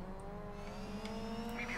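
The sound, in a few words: rally car engine in the video game DiRT 3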